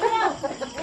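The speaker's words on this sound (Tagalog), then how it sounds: "tinatakbo na yung manok" A chicken gives a short, close burst of clucks, quick and choppy, lasting under a second.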